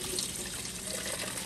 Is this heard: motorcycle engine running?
no